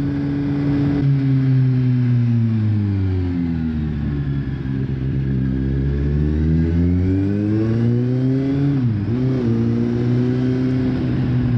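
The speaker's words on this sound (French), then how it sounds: "Le son de cette moto il est ouf, il est incroyable" A loud Kawasaki Z750 motorcycle engine revs up and down in long sweeping pitches, close and continuous, dipping sharply before climbing again.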